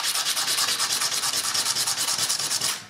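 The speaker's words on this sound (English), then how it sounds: "sandpaper." Sandpaper rubbed back and forth on a Kubota BX snowblower gearbox part, a close, loud rasping scrape in quick regular strokes, about seven per second, with no talk.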